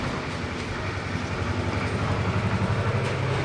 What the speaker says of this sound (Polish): jedzie taki zabytkowy ciągnik, że normalnie szok